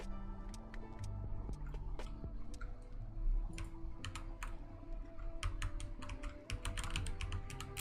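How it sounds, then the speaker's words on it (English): Rapid typing on a computer keyboard at a desk, continuous clicky keystrokes in uneven bursts under a low steady hum, close and fairly faint. "I hit the function key on my keyboard"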